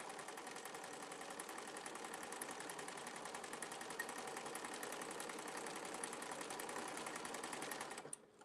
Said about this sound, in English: I'm just sewing and hanging out.